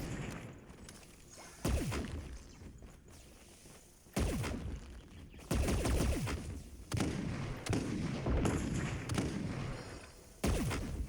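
Bursts of video game gunfire crack out in a shooter match played on a cliff overlooking a ridge, several loud shots and explosive booms spread across the stretch with no talking over them.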